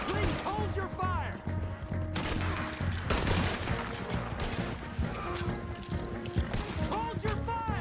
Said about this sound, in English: Shoot at these men. Come on! Shoot to kill!